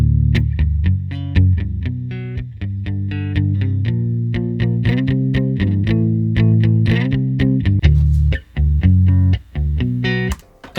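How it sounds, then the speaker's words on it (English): A clean electric guitar through an impulse response plays a lively riff of picked notes and chords, loud and upfront with a bright, polished tone and no talking. "This one here is the Lithium Cleans IR."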